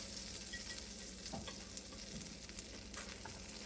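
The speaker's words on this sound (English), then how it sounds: "Now I turn the stove on low heat and I had some butter in there" Butter melting in a pan on a stove over low heat, giving a steady, soft sizzle with faint stirring scrapes, close and continuous with no talking.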